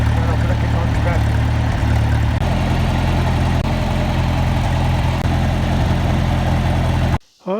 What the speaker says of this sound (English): I'm done here with the tractor for a while.